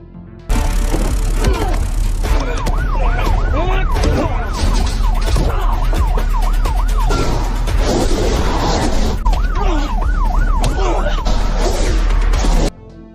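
An ambulance siren in an action film wails in repeated rising and falling sweeps, loud and close, amid crashes and other film sound effects.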